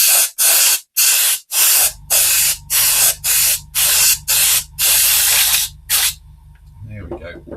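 An aerosol can spraying a heavy coat of Flory Models thick weathering wash onto a model in a series of loud, close bursts, with a low mechanical hum joining partway and brief handling noise at the end.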